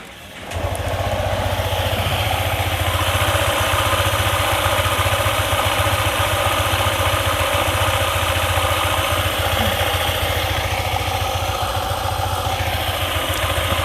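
A Honda ADV 150 scooter idles steadily up close after starting, its engine a constant loud hum with a rough rattle reported from the CVT area, running alone without pause.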